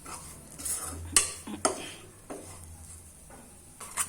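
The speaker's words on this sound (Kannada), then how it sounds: "ಮಸಾಲೆ ಚೆನ್ನಾಗಿ ಎಣ್ಣೆಯಲ್ಲಿ ಮಿಕ್ಸ್ ಮಾಡ್ಕೊಳ್ಬೇಕು" Spice powders such as coriander and garam masala are stirred into oil in a pan for gobi kurma, with a spoon scraping and clinking against the metal in irregular strokes over a faint low hum.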